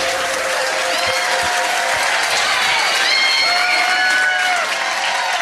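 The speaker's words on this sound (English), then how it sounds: "Give her a huge round of applause." A pub crowd at a trivia quiz at The Granta bursts into sustained applause for the winner, dense steady clapping with some cheers and whoops rising over it.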